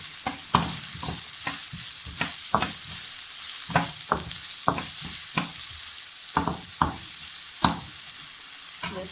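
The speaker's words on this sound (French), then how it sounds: "Je laisse revenir pendant 2-3 minutes" Onions fry in a pan for rice pilaf with a steady bright sizzle, punctuated by repeated scraping knocks of a utensil stirring them at irregular intervals.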